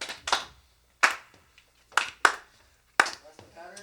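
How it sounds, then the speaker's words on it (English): Five or six separate, sharp hand claps spaced in an irregular pattern with quiet gaps between them, close and fairly loud, with a little talking near the end. "Here we go for the claps"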